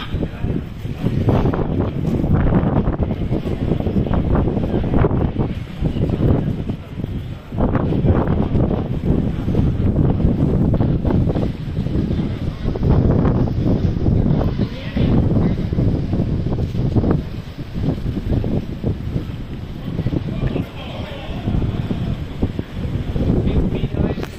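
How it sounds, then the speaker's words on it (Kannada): Strong wind in Edinburgh, Scotland, roaring and buffeting the microphone in continuous heavy gusts, with faint voices partly buried beneath it. "ಗಾಳಿ ಹೆಂಗಿದೆ ಅಂದರೆ ನಾವು ಹಿಡ್ಕೊಂಡು ಹೋಗ್ತೇವೆ"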